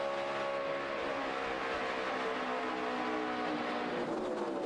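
NASCAR race cars running side by side at the Ford 300 in 2011 on a progressively banked oval, engines roaring in a dense, steady, loud pack with pitch shifts as they pass, no talk.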